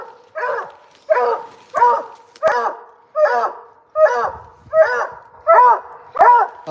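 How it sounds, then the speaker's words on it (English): A small dog barks about nine times in a steady, evenly spaced series at a kennel, each bark loud and close with nothing else over it. "I like this little dog."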